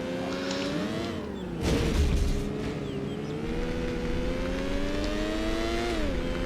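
Engine of a car racing on a dirt track in Need for Speed: Porsche 2000 on PlayStation, a steady droning hum that rises and dips with throttle changes, with a louder rough burst early on.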